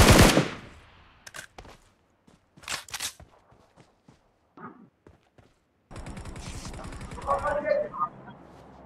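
Bursts of automatic gunfire from the BGMI battle royale game, sharp rapid cracks in short clusters followed by a sustained volley near the end, with faint clicks and mechanical sounds between.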